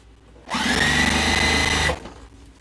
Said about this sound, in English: I just sewed the binding together, folded it in half, sewing it on the front side